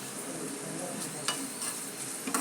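Ginger and tempering spices fry in a pan for moong dal rasam, a soft continuous sizzle punctuated by a few light scrapes of stirring, heard fairly quietly with no talking.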